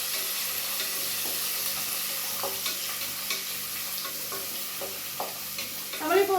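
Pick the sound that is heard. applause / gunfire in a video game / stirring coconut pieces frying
stirring coconut pieces frying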